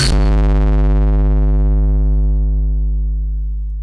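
One kick drum hit swells into a deep, droning phaser tail that rings on for several seconds and fades very slowly.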